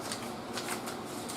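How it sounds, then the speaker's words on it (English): A circle is popped out of a perforated paper sheet by hand, giving quiet papery crackles and a couple of brief tearing snaps. "Pop out the circle."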